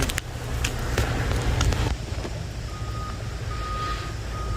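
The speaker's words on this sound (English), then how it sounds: "So there's a truck there." A truck's reversing alarm beeps in a steady, evenly spaced series from a moderate distance outdoors, heard over rumbling traffic and background noise, with a few knocks early on.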